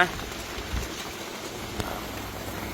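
Rain that had been heavy is easing off at a temple, leaving a steady soft hiss of falling drops under a man's speech, fairly close and even throughout.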